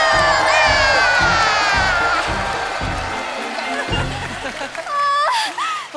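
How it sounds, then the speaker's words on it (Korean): Children in the audience of a Korean children's TV show cheer and shout loudly up close for a princess and prince. Rhythmic clapping beats sound beneath their high voices for a few seconds, then excited shouts and whoops rise toward the end. "그럼 멋진 공주와 멋진 왕자에게 힘찬 박수"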